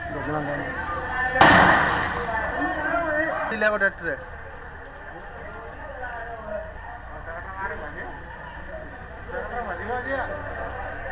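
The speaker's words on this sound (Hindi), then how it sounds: "इस वीडियो में आप साफ सुन सकते हैं कि गोलियों की बौछार किस तरीके से हो रही होगी" A sharp burst of loud gunfire cracks out near the start at an agricultural market, followed by a fainter bang, then a background of murmuring voices and street noise.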